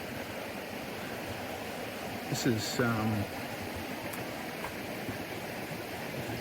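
Creek water flows steadily near a swimming spot along the Hidden Falls walk in Litchfield National Park, a constant soft rush with a voice speaking briefly over it.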